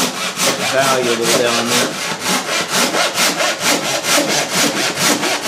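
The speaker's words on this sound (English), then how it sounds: "I'll go ahead and use my draw saw on the bottom here." A draw saw cutting through wood on a boat build, loud close rasping strokes in a steady back-and-forth rhythm of about two per second, with a brief spoken remark partway through.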